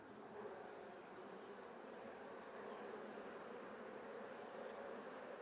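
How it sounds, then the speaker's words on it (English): Honeybees swarming around a beehive produce a steady, continuous buzzing drone that is close and fills the whole stretch without any speech. "I want to put the tape right where all those bees are sitting"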